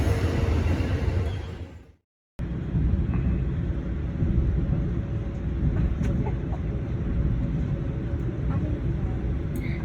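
An Amtrak train led by Heritage Unit 203 rolls into a station, a loud steady low rumble that cuts out briefly then resumes as a continuous heavy drone.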